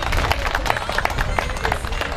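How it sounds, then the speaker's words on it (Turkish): Festival crowd in Yenişarbademli, Isparta clapping and cheering together, with a steady dense wash of applause and a busy hubbub of voices underneath throughout. "Bunların katıldıklarını alkışlarıyla belli edebilirler arkadaşlarım."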